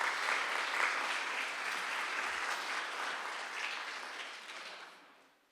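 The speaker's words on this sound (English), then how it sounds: "let's give Josh a round of applause" A room full of people gives a round of applause for an honoree at a regional showcase event, steady dense clapping throughout that tapers off toward the end.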